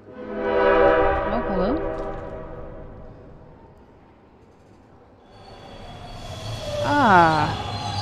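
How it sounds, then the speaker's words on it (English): Passing train in the video game Bendy and the Dark Revival, with loud horn blasts and brake squeals that build, fade to a low rumble, then swell again as the train pulls in near. "Where does this train come from, exactly?"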